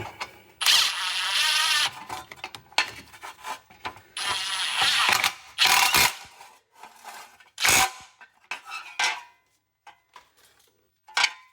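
A ratchet snugging a parking brake wiring bracket on a 2020 Subaru Ascent during a rear wheel bearing job, heard as bursts of rapid clicking with metallic clatter and pauses between strokes, close by.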